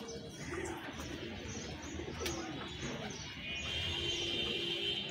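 Pigeons coo steadily while being fed a mix of chickpeas and wheat on Eid, with soft chirps and an occasional wing flutter close by; no one speaks.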